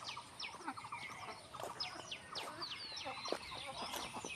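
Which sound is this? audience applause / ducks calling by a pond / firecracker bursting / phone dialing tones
ducks calling by a pond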